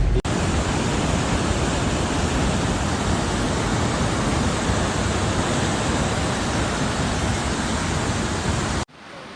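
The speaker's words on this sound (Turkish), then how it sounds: "Dere taştı. Su iş yerlerine bastı." Floodwater from an overflowing stream in Toroslar, Mersin, surges past streets and flooded businesses during heavy rain, a loud, steady broadband roar that stays constant close by and drops off abruptly just before the end.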